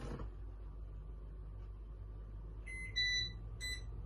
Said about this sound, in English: the first beep was me turning the Enerdrive inverter on